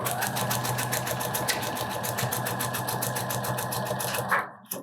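A sewing machine stitching the fabric of a skirt runs at a steady, fast buzzing rhythm, close and continuous, then stops abruptly just before the end.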